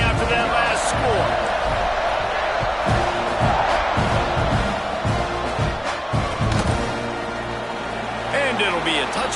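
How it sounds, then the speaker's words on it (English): Stadium crowd at a football game just after a score and extra point, a steady loud roar with scattered thumps and shouts, heard under continuous commentary talk. "this crowd is buzzing after that last score"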